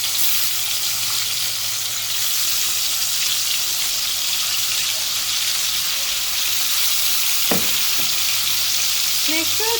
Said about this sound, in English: In the same oil, I'm going to fry the marinated prawns.